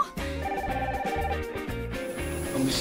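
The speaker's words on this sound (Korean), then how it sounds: "그럼 혹시 전화 받고 가셔야 돼." A telephone rings with a repeating electronic tone over busy background music on a television variety show set, the ring pattern cycling steadily throughout.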